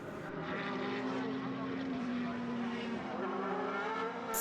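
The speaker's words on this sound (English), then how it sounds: "They blast up over the crest into Tarzan 1, and O'Connell shows a little bit of braking" Formula BOSS Ireland race cars blast up over a crest into a corner, a loud sustained engine drone with shifting tonal pitch throughout, heard alongside commentary.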